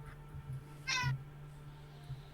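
A single short, high meow sounds once, fairly clear against a quiet room with a low steady hum.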